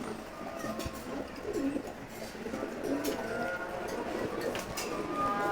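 Male racing pigeons resting in a loft coo steadily, low and throaty with repeated soft calls, against a busy background of rustling and faint clicks, at moderate distance.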